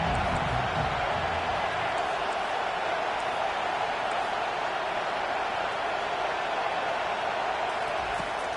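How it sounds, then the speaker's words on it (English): Stadium crowd at a football game roars in a loud, steady, dense wash of cheering and noise that holds for the whole stretch without letting up. "This crowd bringing an ear-splitting welcome to their visitors."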